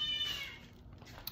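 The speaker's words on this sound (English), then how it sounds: "Why is Miss Kitty fussing at me?" A house cat meows once, close by and fairly clear, in a quiet home room with faint background noise and no talking.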